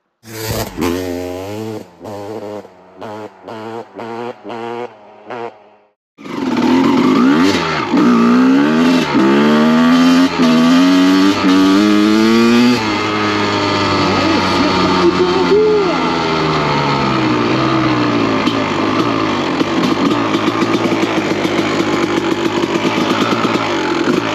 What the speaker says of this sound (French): mais franchement la moto elle tourne super bien